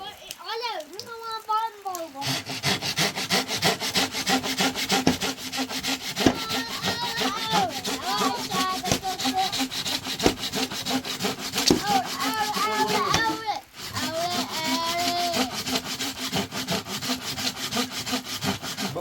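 A hand saw cuts through wood in a rainy village yard, a steady back-and-forth rasp of strokes running nearly throughout, with a brief pause near the middle, while people talk nearby.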